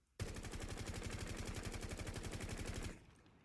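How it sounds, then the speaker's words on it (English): Sledge's main weapon firing a single sustained full-auto burst in a video game, rapid evenly spaced loud shots for about three seconds before cutting off. "I'm gonna show you how to control the recoil of his main weapon"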